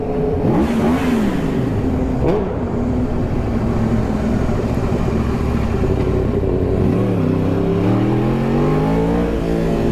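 A superbike engine revs hard while being ridden, loud and close, its pitch climbing and dropping as the throttle opens and closes, with whirring and clattering under a steady roar.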